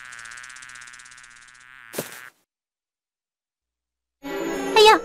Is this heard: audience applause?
no